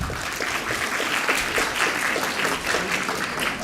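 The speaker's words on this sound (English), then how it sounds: "Give a round of applause." An audience at an actuarial summit gives a round of applause during an MOU exchange ceremony, a steady, moderately loud patter of many hands.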